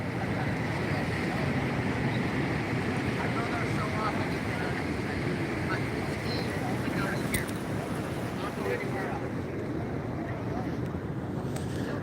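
Ocean surf at Pismo Beach rolls in as a steady, continuous wash of breaking waves with wind noise over the microphone, loud and unbroken throughout.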